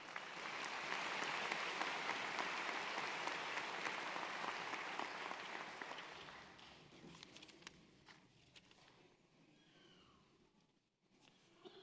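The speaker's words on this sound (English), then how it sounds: "Please give him another round of applause." Audience applause fills a commencement ceremony hall, a dense steady roar of many hands that gradually thins into scattered claps and fades out near the end.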